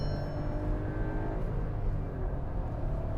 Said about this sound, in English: It is a 3-cylinder engine, and that means it's not as refined as other 4-cylinder engines